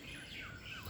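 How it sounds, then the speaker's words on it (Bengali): Morning birds chirping and twittering outdoors, a steady blend of high overlapping tweets and calls with no voices, lasting under a second. "পাখির কিচিরমিচির আওয়াজ।"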